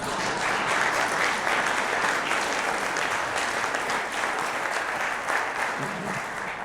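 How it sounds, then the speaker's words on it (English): A seated audience at a presentation gives a sustained, thick round of applause, steady and fairly loud throughout with only a faint murmur near the end. "did y'all want to give like a thunderous round of applause for..."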